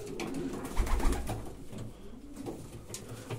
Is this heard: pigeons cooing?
yes